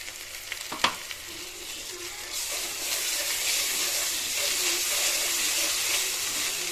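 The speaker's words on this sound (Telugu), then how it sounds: "ఈ అల్లం వెల్లుల్లి పేస్ట్ పచ్చి వాసన పోయే వరకు వేయించుకోండి" Ginger garlic paste fries in a pan for chicken curry, sizzling loudly and steadily after a quieter start that includes a single metallic clank.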